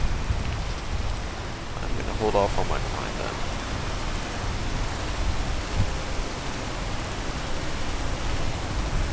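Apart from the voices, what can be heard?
rain falling in the video game Peak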